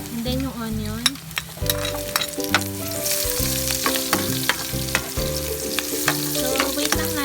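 Garlic and onion fry in a pan with a steady sizzle that runs throughout, partly covered by louder background music with sharp clicks now and then.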